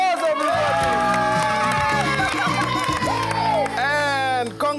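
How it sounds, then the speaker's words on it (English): A studio audience of children on an educational TV show cheers and whoops loudly, with shouting voices rising over a bright, tonal background. "One more round of applause, everybody!"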